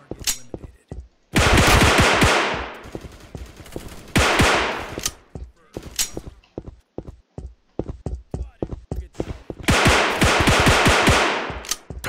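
Handgun fire in the action shooter game Last Mortem comes in dense, loud bursts of sharp shots, spaced with rapid clicking and mechanical handling sounds between volleys.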